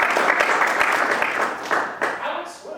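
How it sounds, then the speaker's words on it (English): An audience applauds the sponsors at a live literary storytelling show, loud dense clapping that thins out toward the end as a voice begins to speak. "Let's give our sponsors a round of applause."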